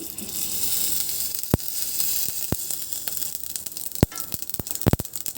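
Mustard seeds, cumin, ginger-garlic paste and curry leaves sizzle in hot oil: a steady, close hiss with sharp pops and crackles scattered throughout, no voices.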